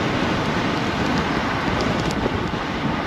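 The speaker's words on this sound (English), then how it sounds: "Windy." Strong wind buffeting a microphone outdoors beside a road, a steady loud roar and rumble filling the whole clip with no pauses or voices.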